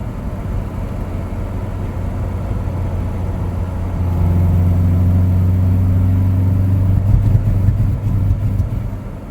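A Reliant Robin's small engine drones under full throttle, a steady loud hum that swells midway into a stronger, slightly uneven roar with faint stutters toward the end.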